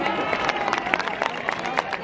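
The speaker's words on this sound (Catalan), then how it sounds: "aplaudiment per la Marta, home" A crowd at the 2022 Sabadell Christmas lights switch-on applauds the mayor, Marta. The clapping is dense and continuous, mixed with crowd voices, over a short stretch.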